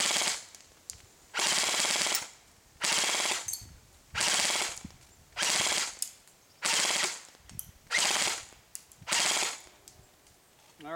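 An Echo 1 Zombat Stryker airsoft gun fires full-auto bursts, about six loud, rapid buzzing volleys of roughly a second each, separated by short pauses, close to the listener with no talking.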